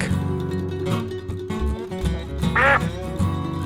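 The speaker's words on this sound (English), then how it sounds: "A duck." A duck quacks once in a short burst over a steady musical backing with a repeating bass pattern, clearly audible near the middle of the clip.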